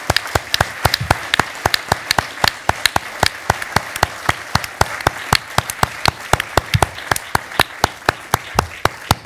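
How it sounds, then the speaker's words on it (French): An audience claps after a talk at a conference on ethics and law, producing loud, crisp, evenly spaced claps in a steady, almost metronomic rhythm that continues throughout. "On les applaudit."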